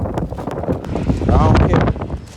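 Strong wind buffets an outdoor microphone with continuous rumbling gusts that swell toward the middle, while a person talks through the noise.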